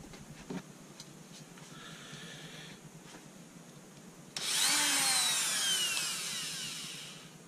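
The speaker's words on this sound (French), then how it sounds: "avec la Dremel, il suffit d'enlever tous les petits bords qui peuvent être coupants" A Dremel rotary tool grinds down the sharp cut edges of a 5-litre metal beer keg, starting after a few soft handling knocks with a sudden loud high-pitched whine that fades gradually as it works.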